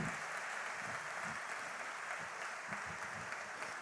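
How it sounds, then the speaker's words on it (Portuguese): Faint, distant applause from a church congregation, a steady wash of clapping throughout with a low thump or two underneath. "Vamos aplaudi-los"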